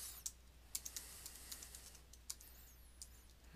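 Soft, rapid clicks of a password being typed on a computer keyboard, irregular keystrokes close by and quiet against a low steady hum.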